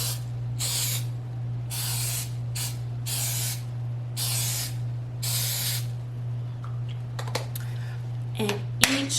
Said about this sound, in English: And just spraying each one generously.